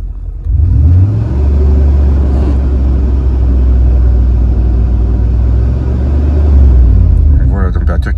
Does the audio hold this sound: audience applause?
no